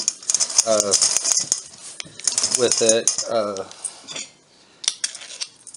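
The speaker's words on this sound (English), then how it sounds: "Got out the pastry cutter. I'm going to cut the butter in" A pastry cutter works butter into an apple crisp topping with rolled oats, giving bursts of metallic clinks and scraping against a bowl, close and fairly loud, with a person talking between bursts.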